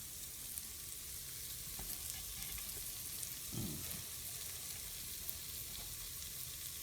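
Butter melting and sizzling in the heated pot of a rice cooker, a steady soft crackle and hiss running throughout with small pops.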